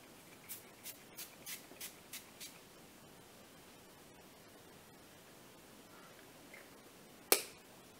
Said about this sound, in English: I'm just gonna spray my face